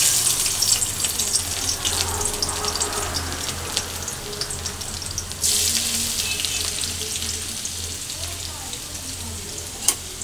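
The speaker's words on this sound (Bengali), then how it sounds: "এখন দিয়ে দিব হচ্ছে রসুন কুচি আর আদা কুচি।" Chopped garlic and ginger fry in oil for a Chinese-style vegetable dish, a continuous close hiss with a brief louder surge as they go in, light scraping and a sharp clink near the end.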